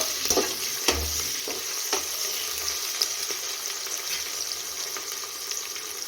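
Masala rice is stirred in a pan after onion goes in, with a constant low frying hiss and scattered clinks and scrapes of a spoon against the metal. No one talks.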